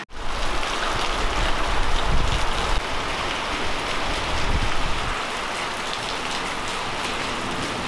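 Steady rain pattering on surfaces outdoors along a walking trail, a dense and fairly loud hiss with no speech, easing slightly toward the end.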